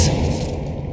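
Spell effect from Hogwarts Legacy as Expelliarmus is cast: a sharp burst at the start swelling into a deep, loud booming rumble that fades slightly over one second.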